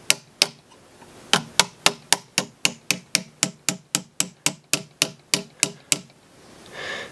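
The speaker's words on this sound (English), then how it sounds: "for tapping it in, I'm just going to use a small Delrin punch" A small Delrin punch is struck about twenty times, driving a part into a Jewell HVR trigger on a Remington 700 rifle. The sharp, close taps come in a steady, even rhythm after two opening strikes and a brief pause.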